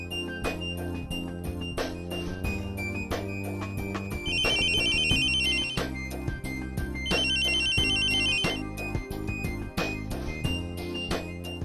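A telephone plays a melodic electronic ringtone in a Hindi TV serial scene. The tune loops steadily for about twelve seconds and grows brighter and louder through two stretches in the middle, with no talk over it.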